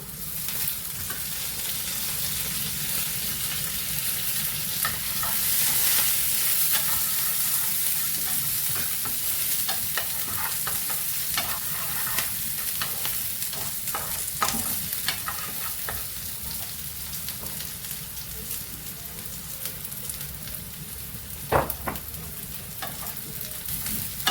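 Crushed garlic, onions and curry leaves fry in hot oil for a Kerala-style dry prawn dish, a loud continuous sizzle broken by spoon scrapes and stirring clinks against the pan, with no voices.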